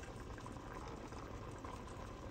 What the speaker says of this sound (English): And our rice is coming to a boil.